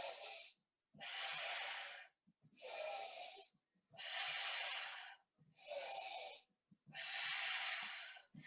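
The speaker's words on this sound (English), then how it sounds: "watch how this foot lifts off the floor now, and pay attention to how the breath goes" Loud, close breathing during a Pilates foot-lift exercise: six long, forceful breaths, alternating in and out with short silent gaps between them.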